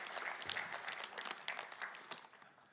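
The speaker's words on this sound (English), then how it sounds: "let's give him a big applause" Faint, distant applause from an audience at an industry event, a soft continuous patter of many hands with a few sharper claps standing out.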